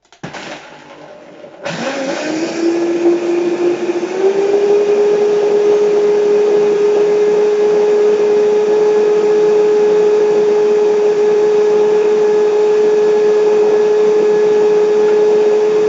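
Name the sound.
blender mixing cacao drink ingredients with cold water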